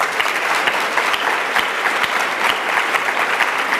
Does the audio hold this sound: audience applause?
yes